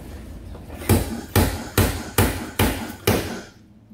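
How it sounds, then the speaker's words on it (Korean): Sliding hammer pulling a dented steel car body panel out on a Sonata, six sharp metallic bangs at an even pace, close and loud. "탕탕 쳐주면서 이제 밖으로 이제 빼주는 거죠, 철판을."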